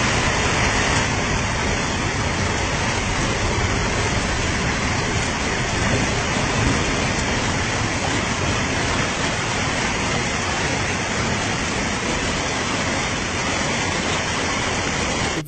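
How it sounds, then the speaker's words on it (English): Heavy rainfall pours off a bridge like a waterfall, making a loud, steady roar of rushing water that fills the whole stretch without letting up. No voices are heard. "Heavy rainfall turns a bridge into a waterfall."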